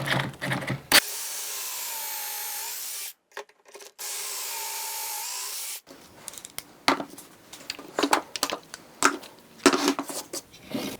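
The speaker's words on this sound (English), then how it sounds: "Now we can make our pocket holes." A drill bores pocket holes through a Kreg pocket hole jig in two steady whining bursts of about two seconds each, followed by scraping and knocking as the wood is handled.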